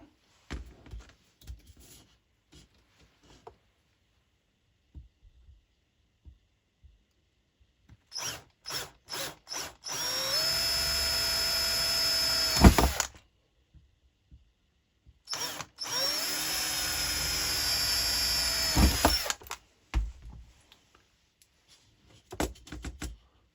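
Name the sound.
power drill drilling holes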